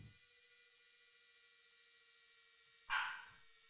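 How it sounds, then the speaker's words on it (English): A single dog bark rings out nearby at an airfield with hangars, a short sharp burst following a long quiet stretch filled only with a steady electrical hum and faint background noise. "You guys just heard the dog."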